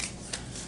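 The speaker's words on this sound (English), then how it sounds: "We're going to shuffle our own" Marvel Villainous cards being shuffled at close range, a soft continuous riffling rustle with a brief louder burst partway through, no voices.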